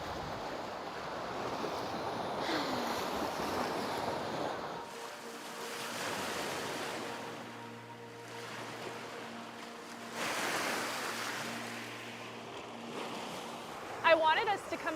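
Waves washing out on a lake, soft rolling surges rising and fading in slow pulses with wind buffeting the microphone, and a faint motor hum in between.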